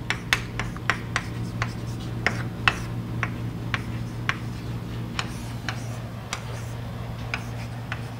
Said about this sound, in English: let me write this down here.